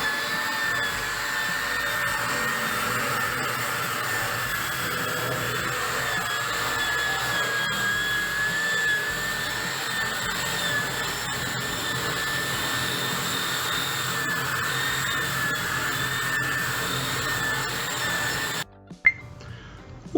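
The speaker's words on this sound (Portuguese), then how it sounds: "está demonstrada a limpeza com ferramenta rotativa, no caso, uma escova como implemento de uma ferramenta tipo lixadeira." A rotary sander-type power tool fitted with a wire brush cleans a steel surface, a steady high whine with scratchy brushing held for most of the clip before it stops abruptly near the end.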